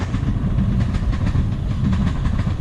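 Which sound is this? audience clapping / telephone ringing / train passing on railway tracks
train passing on railway tracks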